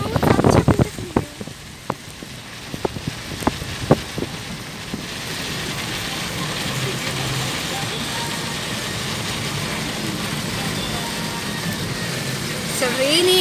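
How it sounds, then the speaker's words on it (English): Rain falling outdoors in hilly country near Warangal, a steady broad hiss building after a few sharp knocks and handling bumps at the start. "It's raining."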